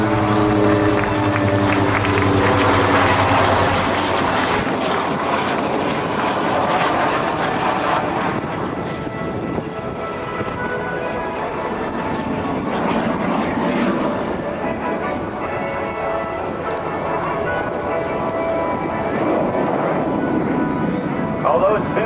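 Piston-engined warbirds of a naval legacy flight, including an SB2C Helldiver, make a loud, steady engine roar during an airshow flyby at Naval Air Station Oceana, with crowd noise and an announcer talking throughout.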